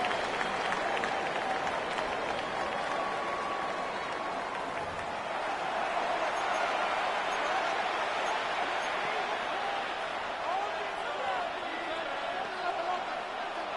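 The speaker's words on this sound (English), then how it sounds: "The crowd making their presence felt." A stadium crowd roars and applauds continuously in an American football video game, a dense steady wash of cheering under an announcer's commentary.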